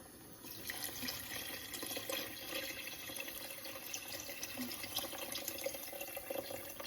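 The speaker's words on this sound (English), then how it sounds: "I'm going to add the water right up to the pan." Water from a tap pours steadily into a soup pan of wilted vegetables for lamb shank soup, a continuous close rush with faint drips and clinks over the top.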